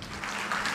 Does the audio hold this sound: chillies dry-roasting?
no